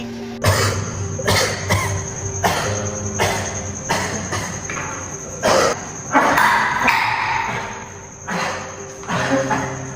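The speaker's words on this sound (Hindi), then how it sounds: "वो मालिक इतनी खांसी क्यों आ रही है तुम्हें?" A man coughs repeatedly and hard, about a dozen harsh bursts spaced roughly half a second to a second apart, close by, over a steady background hum with a faint insect-like whine.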